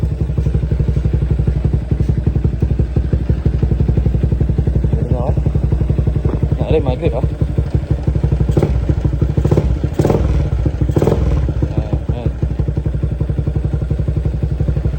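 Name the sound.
motorcycle engine running smoothly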